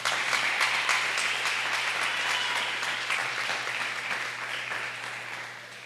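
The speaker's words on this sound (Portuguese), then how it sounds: "Pode aplaudir ao nome de Jesus?" Church congregation applauding at a youth worship service, dense steady clapping throughout, gradually fading slightly toward the end, with a low hum underneath.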